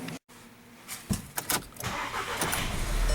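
A 2012 Volkswagen CC with a cam timing fault cranks and fires up, a short burst of starter noise followed by an uneven, rough idle that rises in loudness, heard close by.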